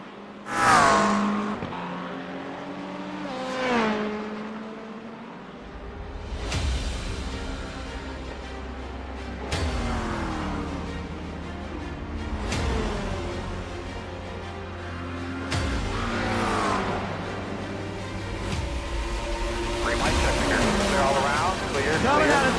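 Race cars in iRacing lap Watkins Glen in an IMSA-style event. Engines howl through rising and falling gear changes, cars pass repeatedly, and a commentator talks over the racing.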